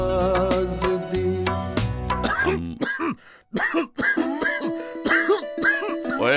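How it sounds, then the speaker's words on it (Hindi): Harsh coughing and throat clearing break out in the middle of a cough syrup commercial, with music playing before and after the rough, bursty hacks. "ओए पाजी किए कराए पर खांस दिए क्या?"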